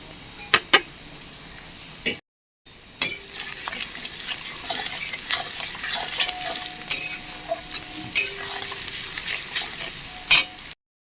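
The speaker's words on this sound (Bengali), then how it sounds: "থেতো করে রাখা রসুনগুলো দিয়ে দেবো" Crushed garlic drops into hot oil in a pot for mutton curry, setting off a steady sizzle. A spoon stirs and clinks against the metal in sharp knocks, and the frying crackles on after a brief pause.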